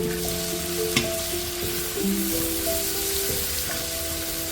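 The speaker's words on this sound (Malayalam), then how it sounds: "നമ്മൾ അരിഞ്ഞു വെച്ചിരിക്കുന്ന സവാള ഇട്ട് കൊടുക്കാം." Sliced onions frying in hot oil left from frying chicken for biryani masala, a steady close sizzle and crackle with a brief clink of a utensil, no talking.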